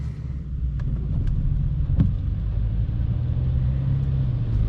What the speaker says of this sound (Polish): Jeśli chodzi o dźwięk silnika, bo na pewno to was interesuje